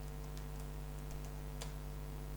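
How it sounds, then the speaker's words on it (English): Quiet keystrokes tap on a computer keyboard while entering text in a web browser, a few scattered clicks over a constant low electrical hum. "and here you can type"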